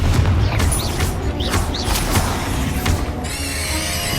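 Blasting-spell explosions from a Confringo cast in Hogwarts Legacy, inside a tomb: several loud booms and bursts in quick succession over a rumbling low bed, with whooshing magical swishes and a shimmering tone near the end.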